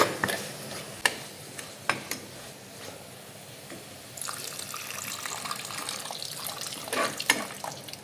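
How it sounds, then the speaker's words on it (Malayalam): Tamarind water goes into a pan for a Kerala-style gravy: a few sharp clicks and knocks at first, then a soft continuous pouring trickle for the last half, close and fairly quiet. "കുറച്ച് പുളിവെള്ളം ഒഴിച്ചു കൊടുക്കുക."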